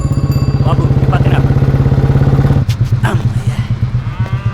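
A new motorcycle fitted with an old engine chugs along with a loud, steady pulsing beat that roughens partway through, while people talk over it.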